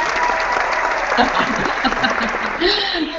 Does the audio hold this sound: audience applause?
yes